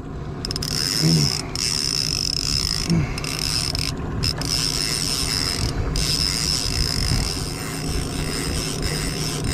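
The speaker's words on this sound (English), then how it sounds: "Let me turn that clicker off for y'all." Steady mechanical clicking of a fishing reel clicker while a feisty steelhead pulls line, continuous and fairly close with outdoor river noise underneath and no talk.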